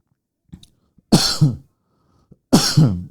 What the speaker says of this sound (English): Sorry, I'm coughing away there.